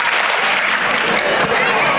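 Audience of students clapping at an induction program, a dense, loud burst of clapping from many hands with some voices mixed in, lasting about two seconds.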